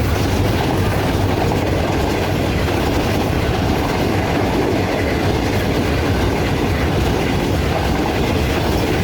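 Pak Business Express train passing a railway station at night, a loud continuous rumble of wagons with rhythmic clickety-clack of wheels on rails, close and sustained, with no talk.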